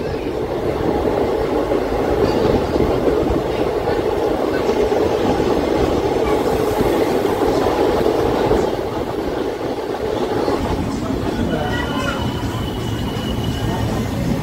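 The Tirupati to Puri Express, train 17480, rumbles along with a continuous, loud roar of wheels and carriage noise heard from on board, steady throughout with slight clattering, and a faint voice underneath.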